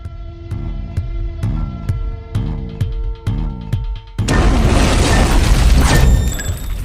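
A bomb detonates as a staged explosion effect, a sudden loud boom followed by a dense roar and rumble that fills the scene, after a few seconds of pulsing, tonal tension music.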